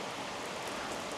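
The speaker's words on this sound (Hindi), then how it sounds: "फुल टू बारिश हो रही है" Heavy rain pours outdoors at a camp site as a steady, dense hiss with no distinct drops or pauses, fairly loud and close throughout.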